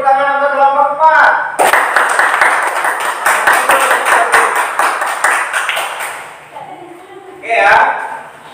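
Students in a classroom clap for a group, a burst of rhythmic clapping that fades out, with a teacher's voice speaking before and after.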